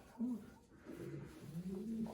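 Soft cooing from racing pigeons kept for breeding, a few low throaty coos close by over a faint background murmur.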